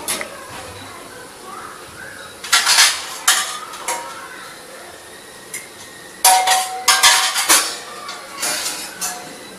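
Mutton keema balls, Madurai style, stirred as they fry in a pan: clustered bursts of metal spoon scraping and clinking against the pan over a low background sizzle, louder near the end.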